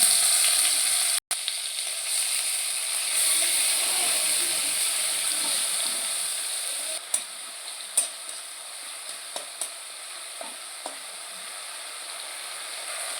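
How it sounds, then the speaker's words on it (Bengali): Tomato fries in hot oil with steady sizzling, a constant bright hiss with a few stirring clicks and scrapes toward the end, no talking. "টমেটোটা দিয়ে আমি ভেজে নিয়েছি"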